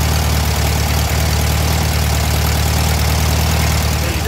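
Air-cooled Volkswagen engine idling too high during a tune-up, a loud, steady, continuous drone close by with no voices.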